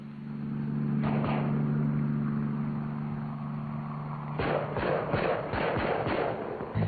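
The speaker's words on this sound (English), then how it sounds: "Patrol team reports they are in the landing zone and receiving fire." Gunfire at a helicopter landing zone during 1970 Air Force UH-1 tactical operations, a series of sharp cracks and bursts over a steady droning hum with a low-pitched, muffled, archival quality.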